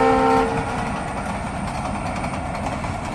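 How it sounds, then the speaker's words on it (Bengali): A train passing a village at sunrise: a brief horn blast at the start gives way to a steady, loud rumbling rattle of rolling wagons. "ওই চলে যায়, ওই চলে যায় ঝকঝকা যা ট্রেন।"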